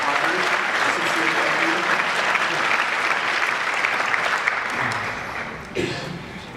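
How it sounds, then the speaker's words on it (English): Audience applause for the sponsors at a conference keynote, steady sustained clapping from a large crowd that carries through, with a brief voice or bump near the end. "If you have one more round of applause for our sponsors"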